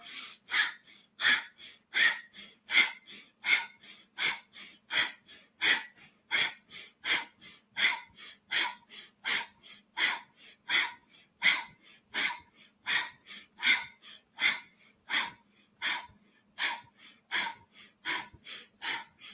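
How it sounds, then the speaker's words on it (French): Forceful, vigorous rhythmic breathing exercise: a steady train of sharp, loud nasal exhalations, roughly two per second, repeating evenly and close up for the whole stretch with no talking. "On continue de respirer avec force, avec vigueur."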